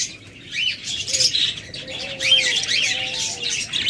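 A pair of albino lovebirds with yellow beaks and red eyes chirps in bright, busy overlapping twitters, close and fairly loud, over a steady background hum from the surrounding birds.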